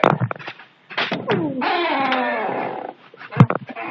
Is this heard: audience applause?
no